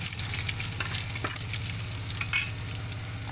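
Sopas ingredients sizzle and fry in a hot pan, a continuous crackling hiss with a few sharp pops and stirring scrapes, close and loud with no talking.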